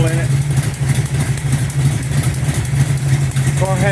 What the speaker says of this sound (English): Got a little bit of exhaust leak, needs to tune up.